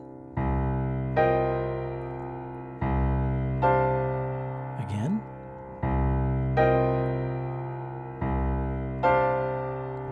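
Two minor piano chord voicings alternate in a steady pattern, each struck and held, the pair repeated several times with ringing decay, broken midway by one brief spoken word.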